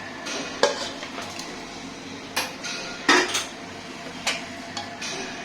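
Fried potatoes mixed with salt and food colouring being added to mutton biryani gravy in a pot, heard as several sharp clinks and clatters of utensils against the pot over a soft kitchen background, with no talking.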